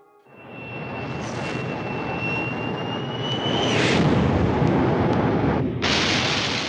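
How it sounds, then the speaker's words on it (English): Military jet aircraft in the 1964 bombing of North Vietnam roar loudly and continuously, building from a fade-in to a sustained heavy rumble with a whining engine tone and a brief dip before resuming. "The planes are in the air as Johnson announces his decision."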